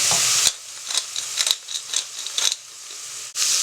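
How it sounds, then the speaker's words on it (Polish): Ground beef steak sizzles in a frying pan as filling for stuffed peppers, a loud close hiss broken by repeated stirring scrapes of a utensil, with no talking. "I to się wszystko razem troszeczkę podsmaży."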